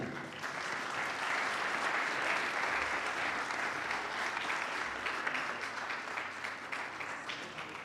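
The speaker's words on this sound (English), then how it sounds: "With a big round of applause, please join me in welcoming Brigadier General George Cedar." Sustained applause from a large audience, a dense wash of clapping that holds steady for several seconds without voices on top.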